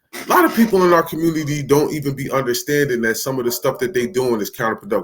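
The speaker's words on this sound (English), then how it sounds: "Sorry for that dog barking." A dog barks somewhere in the background, a few scattered barks sitting under a man's steady, close speech.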